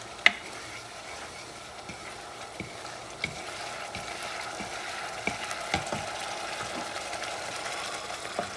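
Chili ingredients stirred in a pan with a soft, steady scraping sizzle, light clicks and taps of the utensil recurring every second or so, close and moderately quiet, with no talking.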